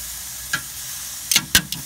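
Chicken breasts sizzle softly on a hot Big Green Egg grill, with a few sharp clicks and scrapes of tongs as the pieces are turned, close and without talk.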